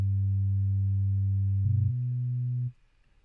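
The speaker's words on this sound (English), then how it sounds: "So it's definitely a very subby bass" Deep, subby sine-wave synth bass holds a steady low tone, then steps to a new pitch before fading out. It plays alone and at full level with no voices.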